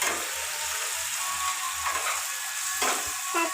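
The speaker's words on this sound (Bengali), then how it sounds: "পেঁয়াজটাকে হালকা করে একটু ভেজে নিচ্ছি" Onions sizzle in hot oil in a pan just after fish has been fried in it, a steady close crackle with a few soft stirring scrapes and no voice.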